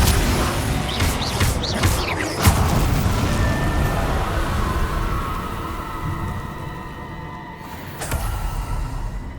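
Depulso force spells from Hogwarts Legacy thump out as heavy booming blasts. A cluster of cracking bursts comes early, then a rumbling tail fades and a final impact hits near the end.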